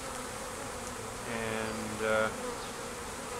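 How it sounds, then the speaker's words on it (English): A swarm of bees hums steadily on a front lawn, a continuous close droning buzz, while someone briefly speaks over it. "he had a swarm of bees in his front yard"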